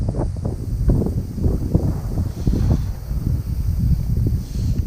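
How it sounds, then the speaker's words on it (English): Steady low rumbling buffeting from wind hitting a microphone, continuous and fairly loud throughout, with gusty swells and no clear voice. "I do apologize for the wind"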